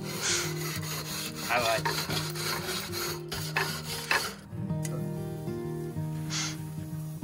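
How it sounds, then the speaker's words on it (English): A grill is scrubbed with a new grill brush at a lakeside campsite, giving a loud, close, continuous rasping scrape with repeated strokes. A voice speaks briefly partway through. "Grill brush. I don't know. I got a new brush."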